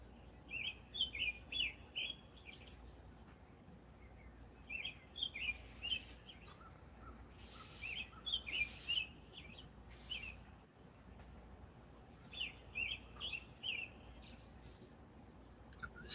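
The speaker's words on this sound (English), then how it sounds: "I hope the birds are singing over there like they're singing over here." Birds sing outdoors in the North Carolina foothills on a morning, with short bright chirping phrases repeating in bursts every couple of seconds over a soft, steady outdoor background.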